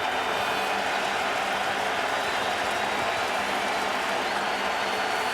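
Steady roaring din of a stadium crowd at a Winnipeg Blue Bombers home football game against Toronto, a dense, continuous wash of cheering and noise without breaks, loud and close.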